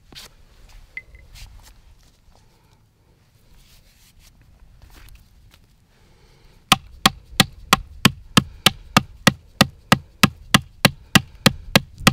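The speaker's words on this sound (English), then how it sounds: "And I'll take my granite here and I'll scrape this more." Yucca fibers are scraped with a granite stone in a run of quick, evenly spaced, sharp strokes that start after several seconds of quiet, faint rustling. The strokes are close and fairly loud, with no talk.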